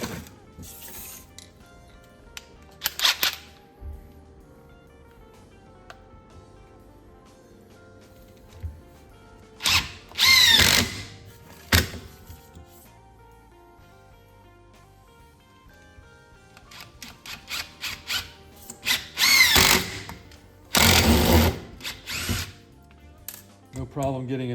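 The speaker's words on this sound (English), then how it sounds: "drive some screws into this block of wood with each battery and see if there's a difference in speed" A Bosch cordless drill drives screws into a block of wood in several separate loud bursts of whirring and ratcheting, with quiet gaps between them and a person talking at times.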